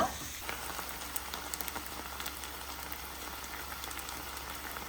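Food seasoned with salt and pepper fries in a pan, making a faint, even sizzle with small crackles and pops scattered throughout.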